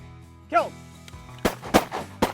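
Shotgun blasts during a duck hunt in Canada: three sharp, loud reports in close succession near the end, preceded by a brief call-like sound and low background noise.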